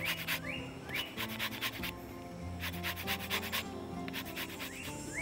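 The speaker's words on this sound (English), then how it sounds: "I will grate 2 lemons, zest of 2 lemons." Two lemons rubbed against a grater for zest, producing steady rasping scrapes in repeated strokes over a continuous background, close and fairly loud.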